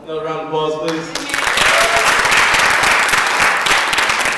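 An audience at a gospel event breaks into loud, sustained applause and cheering. It swells after a moment of voices and music and continues densely to the end.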